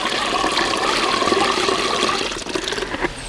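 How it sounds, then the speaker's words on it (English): Weed-steeped liquid drains out the bottom of a compost container through a strainer, giving a steady, fairly loud rush and gurgle of water that continues throughout and eases slightly near the end, with no talking. "we drain the liquid out the bottom"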